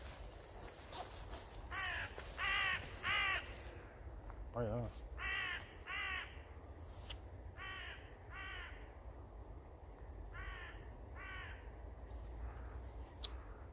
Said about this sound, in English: Crows are nice in the distance to hear.